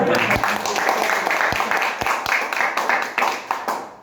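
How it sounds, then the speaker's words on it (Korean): Applause from an audience at a cloud computing project presentation, a dense, steady patter of many hands with a few sharper, louder claps standing out, continuing throughout. "박수 먼저 쳐주시고요"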